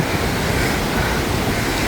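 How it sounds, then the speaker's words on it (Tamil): Sea waves wash continuously over the rocks at Dondra Head on the southern tip near Matara, a loud, steady roar of surf with wind noise and no pauses. "இந்த பாறைக்கு மேலால் வரும் பாருங்க தண்ணி."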